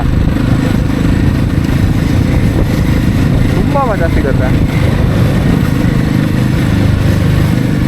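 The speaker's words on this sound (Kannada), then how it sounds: "ಈ ಬೆಂಡ್ಗಳಲ್ಲಿ ಗಾಡಿ ಓಡಿಸೋದು ಎಷ್ಟು ಮಜಾ ಅಂತೀರಾ" A motorcycle rides through winding road bends on a trip from Bengaluru toward Sagara and Udupi. A loud, constant engine and wind roar runs throughout while someone talks over it.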